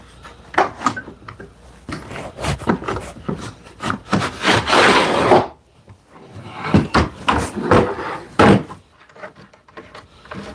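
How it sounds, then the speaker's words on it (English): A wooden expandable wing slides out from a mobile miter saw cart, with repeated knocks and clunks around a long, rasping slide, then more scattered bumps as it settles. "let me slide it all the way out"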